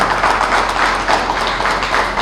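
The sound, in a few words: audience applause for Grandmasters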